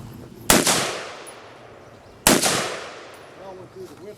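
Two sharp, loud suppressed gunshots are fired from a drum-magazine rifle at a multigun competition, spaced about two seconds apart, each decaying quickly. Faint talk follows.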